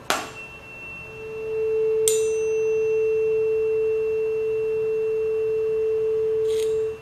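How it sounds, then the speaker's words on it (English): Steady pure tone of a 444 Hz tuning fork resonating in an air column, sustained and even after a couple of sharp strikes, ringing cleanly for several seconds before cutting off. "the air column is resonating beautifully with the frequency"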